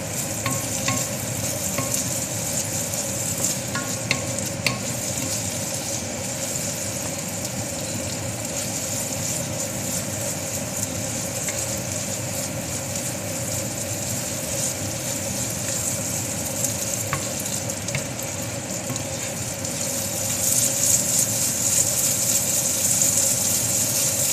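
Garlic sizzling in a frying pan on a stovetop, a steady continuous hiss with occasional stirring scrapes, growing slightly louder and brighter near the end; no talking.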